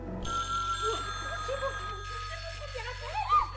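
A telephone bell rings steadily, fairly close and moderately loud, over a low constant hum in a French comedy sketch.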